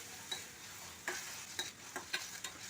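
Onions, ginger, garlic and green chilli sautéing with salt for an egg curry, a soft hiss under intermittent clicks and scrapes of a spoon stirring the pan.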